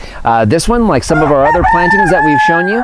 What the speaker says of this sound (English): you may hear our rooster crowing in the background